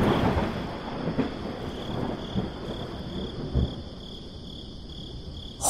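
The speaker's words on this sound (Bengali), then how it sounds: "আবার মেঘের গর্জনও যেন শুরু হয়েছে দেখছি।" Thunder rumbles low and broad in a rural wetland scene from a village horror story, while crickets chirp in a steady high drone behind it and the rumble fades toward the end.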